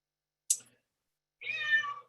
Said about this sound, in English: I have a cat coming down here